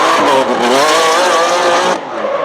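Twin supercharged 6 litre V12 drift supercar in a racing video game, engine screaming loud and close with rising, wavering revs and tire squeal, then the pitch drops sharply near the end.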